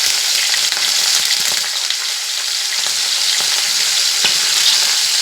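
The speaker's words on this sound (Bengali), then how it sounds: "মটরশুঁটিগুলো আমি দিয়ে দিলাম, দিয়ে একটু ভালো করে ভেজে নেব" Onion, green chili, garlic and peas fry in hot oil in a pan, making a loud, dense, continuous sizzle with faint stirring clicks throughout and no voices.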